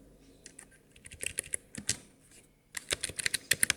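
Code being typed on a computer keyboard: fast, uneven bursts of close, crisp key clicks with a short pause in the middle, no voices.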